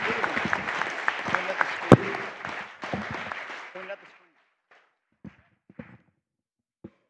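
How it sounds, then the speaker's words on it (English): An audience at the AGDQ 2017 speedrun charity event applauds, a dense, loud wash of clapping and cheering for about four seconds before cutting off to near silence with a few scattered thumps. "Give yourselves a round of applause."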